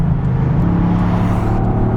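Inside the cabin of a Toyota GR Yaris, the engine gives a loud, close, steady low rumble with a slight whirring edge, holding roughly constant for a couple of seconds.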